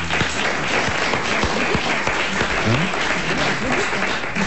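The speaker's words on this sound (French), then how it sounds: "Pour applaudir quand je fais une bonne réponse." Studio audience applause on a French radio-TV comedy panel show, loud steady clapping filling the whole stretch without pause, close and dense.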